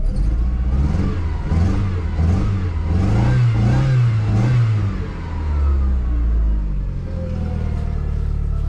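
A Dodge Neon engine that had been sitting runs loudly and revs with a rising and falling rumble, then settles into a steady idle hum as the car starts to pull away.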